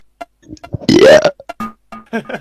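A man lets out one long, loud, close burp that rises in pitch, set among short bursts of talk and quieter sounds before and after.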